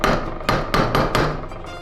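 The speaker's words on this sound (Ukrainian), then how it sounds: "кладемо її на ковадло в лещатах і легкими постукуваннями молотка, поступово обертаючи секцію, вирівнюємо кінець" A hammer gives about five light, sharp metallic taps on the end of a section of a 1979 spinning fishing rod, which rests on an anvil held in a vise. The taps are close and evenly spaced, with no talking.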